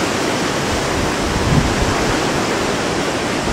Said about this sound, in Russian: Еще вот этот шум волн.